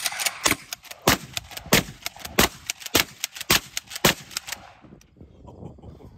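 Gunshots are fired into the sky in a rapid, uneven series of about a dozen sharp cracks at moderate distance. They stop abruptly and leave only faint background.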